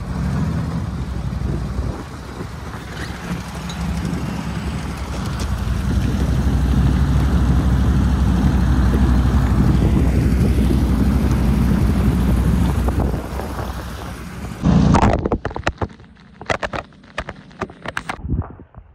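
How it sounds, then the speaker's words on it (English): A small motor on a mini Jeep runs steadily at full roar for about fifteen seconds, with wind buffeting the microphone, then cuts out into scattered knocks and rustles. "First time running with this motor on."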